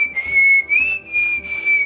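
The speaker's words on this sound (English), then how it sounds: "So you can hear the whistle of Sir Edward walking down additional hall through a door" Whistling carries a steady, slightly wavering tune in short phrases, as Sir Edward walks down a hall in a tabletop roleplaying game.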